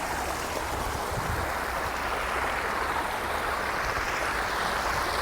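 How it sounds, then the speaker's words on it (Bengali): Water flowing down an artificial waterfall on a man-made hill in Qatar, a constant broad rushing and splashing close by, with no voices. "পানির সাউন্ডটা জাস্ট শুনেন কতটা সুন্দর পানির সাউন্ডটা আর ঝর্ণাটা কিন্তু এইদিকে চলে গেছে"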